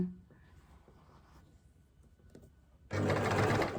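Sewing machine stitching fabric with widely spaced stitches: a soft irregular whir at first, then a loud, steady mechanical running hum for the last second, with no clear talking.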